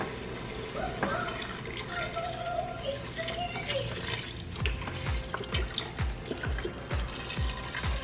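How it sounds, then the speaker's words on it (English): Beef broth pours from a carton into a pot of browned ground meat for lasagna soup, giving a steady liquid trickle with light clinks and pan sizzle beneath. "now that my meat is completely browned, I'm adding beef broth."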